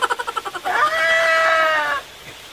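A cat lets out a single drawn-out meow lasting over a second, loud and close, after a run of short rhythmic pulsing sounds.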